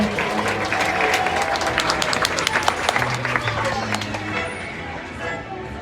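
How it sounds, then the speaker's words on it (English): An audience at a Florida marine park dolphin show applauds, steady dense clapping with some crowd voices mixed in, holding for several seconds before thinning out at the end. "let's give Paisley and Chopper a big round of applause."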